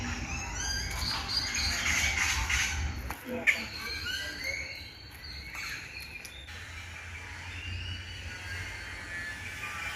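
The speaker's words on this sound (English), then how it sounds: "Another couple of parrots." Parrots squawk at a bird sanctuary in Mexico, with harsh bursts of calls and chirps that are loud and near early on, then thinner and more scattered against steady low background noise.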